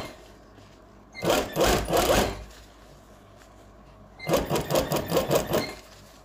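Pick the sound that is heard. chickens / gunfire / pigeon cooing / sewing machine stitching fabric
sewing machine stitching fabric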